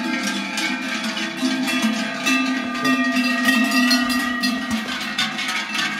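Cowbells on a cattle herd moving during transhumance at Pian Bosch, Ala di Stura, in the alpine pastures, clanking continuously and irregularly at close range, with many bells overlapping and no talk.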